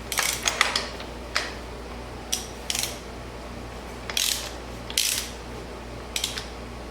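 A ratchet turns over a stuck engine on an abandoned 1984 Honda VF700S Sabre motorcycle, with bursts of sharp clicking pawl strokes in irregular groups over a low steady hum, close and without talk.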